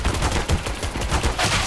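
Rapid suppressed MP5-SD fire in CS:GO crackles in a dense, continuous burst of shots, loud and close.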